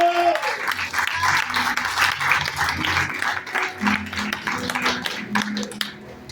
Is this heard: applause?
yes